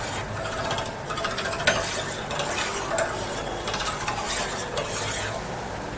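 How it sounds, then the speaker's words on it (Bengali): A spoon stirs a homemade curd mixture in a bowl, giving a continuous close scraping, rubbing swirl that runs steadily throughout without pauses. "বেশ ভালো করে মিক্স করতে হবে।"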